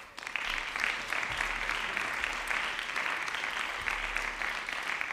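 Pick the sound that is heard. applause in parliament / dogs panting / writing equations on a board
applause in parliament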